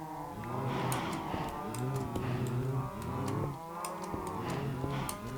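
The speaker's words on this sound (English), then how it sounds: "You're really loud, cows." Several cows in a video game, apparently Minecraft, moo repeatedly in overlapping calls, fairly close, with faint ticking sounds in the background.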